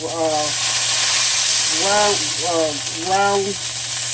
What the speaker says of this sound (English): have that skillet good and hot now, because you don't want them to start throwing off any juices